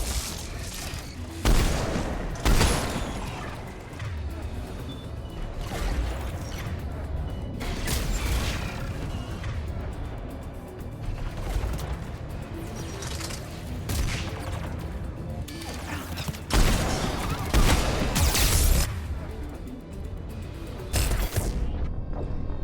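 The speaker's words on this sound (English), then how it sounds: "I heard it turn on, and then I was dead. I fucking hate turrets" Automated gun turret in Mass Effect powering up and opening fire, a dense roar of repeated bursts and booms with mechanical clanks, loud and close, swelling in several heavy waves throughout.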